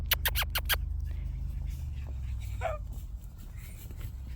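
Several short, sharp puppy yips or barks from a litter of AKC Australian Shepherd puppies cluster at the start. A low rumble and faint rustling and movement follow, with a brief squeak later.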